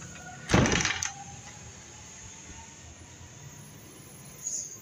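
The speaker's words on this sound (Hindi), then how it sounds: "दरवाज़ा बंद कर देते हैं।" A door on a farm in Ranchi, Jharkhand, pulled shut with one sharp clack and rattle near the start, then quiet background hum.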